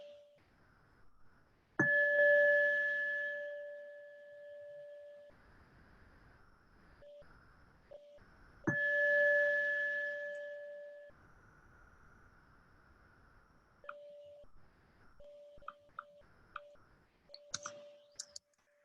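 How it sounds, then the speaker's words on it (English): Meditation bell closing a mindfulness session, struck twice with clear ringing tones that hang and slowly fade for several seconds each, with soft clicks and quiet in between. "you'll hear the bell, 3 bells, as we close"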